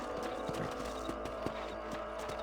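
Horse hooves clip-clop in a steady rhythm across a ground surface in the Western open-world game Red Dead Redemption, a ridden horse moving at a walk, fairly close and moderate in level, with no talk over it.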